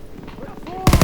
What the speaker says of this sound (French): je tire sur mes alliés